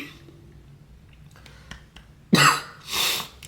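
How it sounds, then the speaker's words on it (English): A dry cough from a stuffy person, two short harsh bursts close to the microphone after a quiet stretch. "I still kind of have a dry cough because I'm still stuffy."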